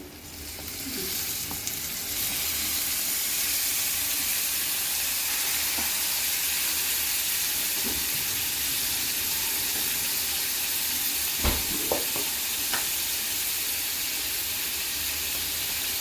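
Chopped tomatoes fry in a hot pan for Andhra dondakaya (ivy gourd) masala curry, with a steady, close, loud sizzle running throughout and a few stirring clicks near the middle.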